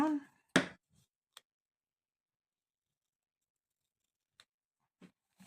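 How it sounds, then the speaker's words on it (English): Scissors snipping white paper while making a junk journal mini book; one sharp close snip follows a brief bit of speech, then a few faint clicks and small handling sounds in near silence. "I have got a little bit extra white paper I can snip off, which is this piece here."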